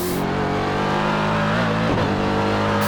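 A car engine revs hard under heavy throttle on a lap of Sebring International, a loud, steady, close drone with a brief dip and recovery near the end, no talking over it.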